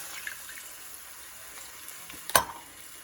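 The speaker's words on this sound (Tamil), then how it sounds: "இதில் வந்து ஒரு 1/2 டம்ளர் தண்ணி ஊற்றுறேன்." Half a tumbler of water goes into a hot cooking pan of sautéed turkey for pepper sukka, a low steady sizzle broken near the end by one sharp, brief burst of hissing splash.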